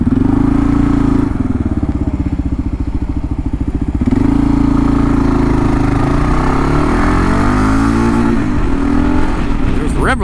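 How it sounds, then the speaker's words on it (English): A 2022 Kawasaki KLR 650 single-cylinder engine revs loud and close, climbing and falling in pitch several times and bouncing against the rev limiter, with steady road and wind rumble throughout. "rev limiter."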